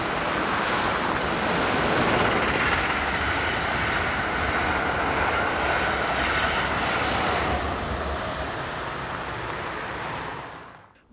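Locomotive 186205 heads a passenger train from Amsterdam to Brussels on a busy line, a broad steady rushing rumble passing by that fades out toward the end, with no voices.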